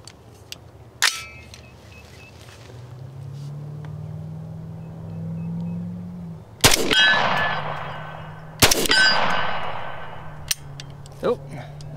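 Three or four sharp cracks from a rifle firing Winchester subsonic 350 Legend rounds at a target 50 yards away, each shot followed by a ringing decay, with a lower engine-like hum between shots.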